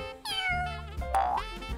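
A kitten meows near a Christmas tree being decorated, with two clear, rising cries close by, the second sharper and more strained, over a soft low hum.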